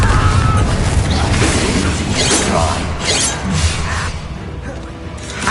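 Explosive Confringo spell effects in Hogwarts Legacy, loud booming blasts with shattering debris, mechanical clatter and whooshes that pile up over several seconds, with a voice calling out over the chaos.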